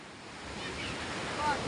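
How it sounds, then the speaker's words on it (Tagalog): Big sea waves roar in a steady broad wash of surf, with wind buffeting the microphone and a faint voice underneath. "Ayun nga, lalaki na alon."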